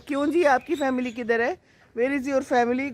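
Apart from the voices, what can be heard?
No distinct noise like a dog, phone or traffic.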